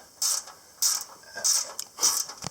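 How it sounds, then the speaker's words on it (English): A mechanical wrench ratchets on a Krone baler in four close, regular bursts of clicking, each roughly half a second apart. Between the bursts there are faint metallic creaks, and no one talks. "You have to use mechanical wrenches."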